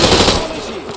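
Automatic weapon fire in the video game Call of Duty: Modern Warfare (2022), a loud, close burst of shots at the start that fades into a ringing echo within a second.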